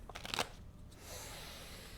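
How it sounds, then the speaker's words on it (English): Tarot cards are shuffled by hand, a short quiet burst of crisp riffling followed by soft, faint rustling. "I'm just going to shuffle a little bit more"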